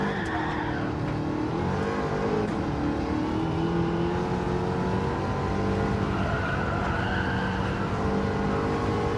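A Chevrolet Camaro race car in Gran Turismo 7 brakes and skids, with engine revving and tire squeal continuing steadily and loudly across the whole stretch, no talk heard.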